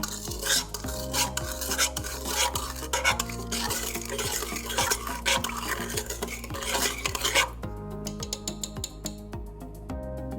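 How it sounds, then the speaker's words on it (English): A yeast and sugar mixture for Afghan bread is stirred in a bowl, a utensil scraping and clinking around the sides in a quick, continuous rhythm, close and clear, then slowing near the end, with no voices. "you're gonna wanna mix this all up beautifully"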